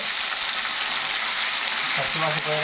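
Ginger garlic paste frying in hot oil for a raw prawn pickle gives a steady, bright sizzle, with a faint voice briefly audible near the end.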